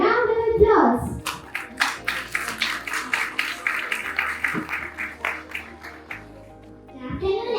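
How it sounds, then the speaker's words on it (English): An audience at a student-led school event claps for young students, a scattered but lively round of close hand claps that rises and fades, with children's voices heard before and after. "Let's welcome our young explorers to the round of applause."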